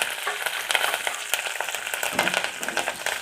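Onions and curry leaves frying in a pan for sambar give off a steady crackling sizzle with dense, irregular pops, close and fairly loud throughout, with no voices.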